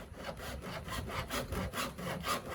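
Handsaw cutting with steady back-and-forth strokes, about eight rhythmic rasping passes, close and clear with no talking.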